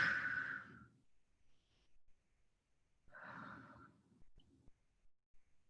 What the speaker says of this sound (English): Take a couple deep breaths in and out.